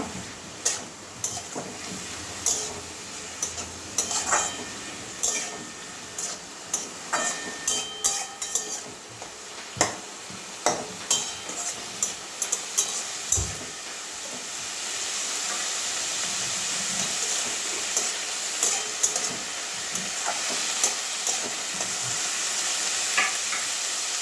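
Mashed cabbage with salt and turmeric sizzles in a hot pan while a spoon scrapes and stirs in repeated sharp strokes, giving way to a steadier frying hiss later on.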